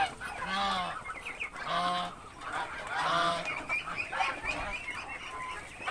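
Muscovy ducks being fed call in repeated loud honking and hissing bursts, about four clear calls spread across the stretch with steady chatter between them, close to the listener and without talk.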